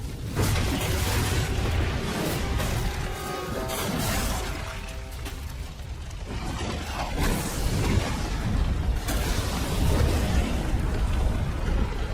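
In Assassin's Creed Unity, a bomb goes off with a loud, sustained roar of blasting, crashing and debris lasting many seconds, layered with dense rumbling and shattering noise and no clear talk.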